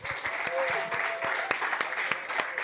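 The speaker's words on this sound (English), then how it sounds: "Round of applause again for Matt." A live podcast audience at the 2000trees music festival claps in a fairly quiet, sparse patter, with individual sharp claps standing out against a low crowd murmur.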